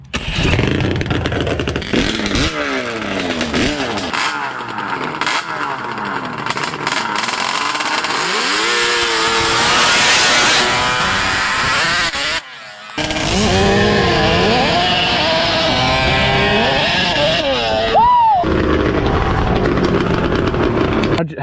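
A 100hp Banshee dirt bike and a 100hp snowmobile run in a drag race against a quad, with high-revving two-stroke engines screaming close by, rising and falling through the gears over a long run with a short cut midway, while people talk at times.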